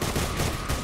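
Gunfire in a Minecraft roleplay battle, a short burst of rapid, loud crackling shots blending into one dense rattle.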